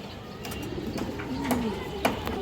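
Pigeons in a mixed loft of fancy breeds coo in a soft, steady background murmur, with a few clearer nearby coos rising over faint ambient noise.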